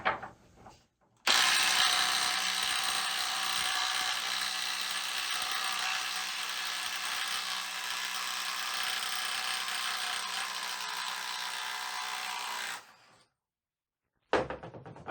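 A Dewalt DCF921 20V Atomic cordless impact wrench hammers at a tightly torqued bolt in one long, loud, unbroken rattling burst lasting about eleven seconds, then cuts off abruptly.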